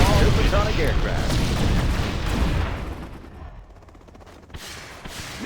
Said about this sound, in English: Firing cruise missiles.